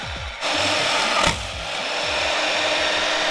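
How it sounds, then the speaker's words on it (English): A portable bandsaw cutting in a workshop gives a steady, loud, close motor whine with a buzzing blade tone that rises briefly near the start and holds until the end, with no talk. "It's pretty dang straight for being a portable bandsaw."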